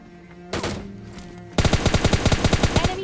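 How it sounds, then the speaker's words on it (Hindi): Gunfire in the mobile shooter PUBG Mobile Lite during a solo-versus-duo match: a short burst first, then a loud, rapid automatic volley of evenly spaced shots that runs to the end. "लेकिन उससे पहले फिर से गोलियाँ आने लगी।"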